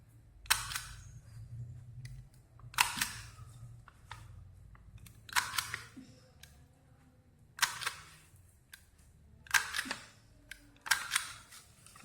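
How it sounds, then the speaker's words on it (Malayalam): A hole punching machine punches decorative holes for a homemade Christmas star, six sharp, crisp clacks spaced a couple of seconds apart over a quiet background. "ഞാൻ ഡെക്കറേഷൻ ചെയ്യാൻ വേണ്ടി ഈ പഞ്ചിങ് മെഷീൻ ഇട്ട് ഹോൾസ് ഇട്ട് കൊടുക്കുകയാണ്"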